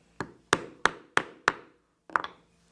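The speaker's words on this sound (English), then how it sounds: "And now I will use a 1/8 inch punch." A 1/8 inch hole punch struck through two folded thicknesses of leather for a fringed cross-body purse: five sharp, evenly spaced taps followed by a quick double strike, close and alone.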